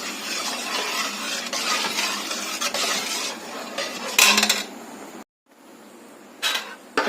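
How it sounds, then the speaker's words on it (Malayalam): Flattened rice powder stirred into coconut milk in a pan over no flame, soft rhythmic scraping and swishing of a spoon with a few metallic clinks and short pauses. "തേങ്ങാപ്പാലിനകത്ത് നമ്മളിട്ട് അവലിൻ്റെ പൗഡർ മുഴുവൻ കട്ടയില്ലാതെ നന്നായിട്ട് ഇളക്കി വെക്കും"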